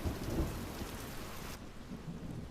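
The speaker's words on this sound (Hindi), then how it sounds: "वैसे भी बारिश तेज हो रही है" Heavy rain pours steadily with deep thunder rumbling through it, loud and continuous, the rumble easing partway through while the downpour keeps going; no voices.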